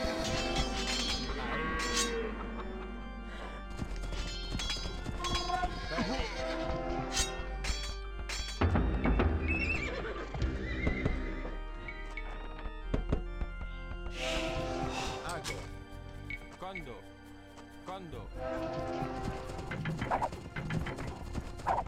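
Horses and livestock in the video game Age of Empires 2 whinny, bleat and clip-clop in repeated overlapping bursts amid busy game sound effects.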